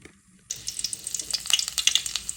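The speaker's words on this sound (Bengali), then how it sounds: "দিয়ে দিলাম তেল" Oil poured into a hot pan for chicken gizzard and potato curry bursts into sharp, crackling sizzle after a brief quiet moment, close and steady with popping spits.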